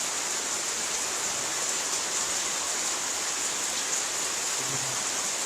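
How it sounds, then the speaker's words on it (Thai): Rain blowing in at night makes a constant, even hiss of falling water that holds at one level throughout, with no speech. "วันนี้ฝนสาดเข้ามา"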